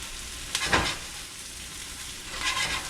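Mushrooms cook down in an omelette pan over gentle heat, a low steady sizzle with two louder bursts of hissing and stirring, one near the start and one near the end.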